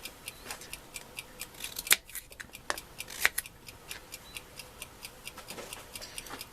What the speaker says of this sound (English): So now I'm going to cut them into small strips.